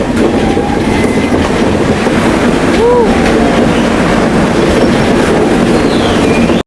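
Vistadome coach on the Visakhapatnam to Araku mountain railway rolling steadily, a loud continuous rumble with clickety-clack rhythm and a brief wheel squeal, heard from inside the carriage.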